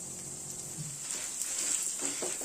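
Lentils, spices, dried red chilies and tamarind dry-roast in a pan with a steady, soft, high sizzling hiss, joined by faint scraping stirs near the end.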